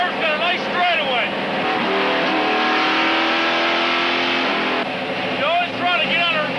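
A stock race car at Jennerstown Speedway screams down the straightaway, its engine note rising and falling as it passes, with a commentator's voice running over much of the roar.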